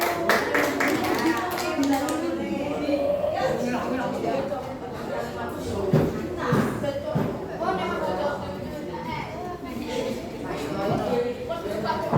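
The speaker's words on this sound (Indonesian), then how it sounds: "Tepuk tangan bersama satu." A classroom group claps together in unison during an emotion-management lesson, with bursts of hand claps mixed with chatter and a speaking voice over the top.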